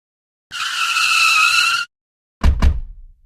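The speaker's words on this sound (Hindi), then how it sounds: "गाड़ी क्यों रोक दिया भाई?" A car brakes hard to a stop with a loud, sustained tire squeal lasting over a second, then silence, followed by two heavy low thumps as the vehicle settles.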